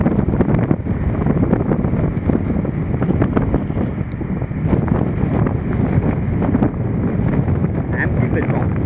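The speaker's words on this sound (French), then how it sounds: "Un petit peu de vent." Strong wind blows outdoors at Tomales Point, Point Reyes, a steady loud rushing buffet across the microphone throughout, with gusty crackles and no clear speech.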